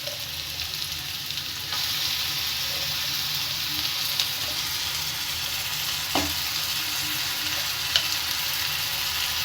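A ground egg-and-vegetable mixture fries in the centre of a pan for paratha, giving a steady, close sizzle with a few light clicks of stirring. No one speaks.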